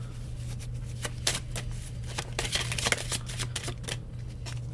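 A deck of angel oracle cards is shuffled close by, a run of quick papery riffles and flicks with a steady low hum underneath and no talk.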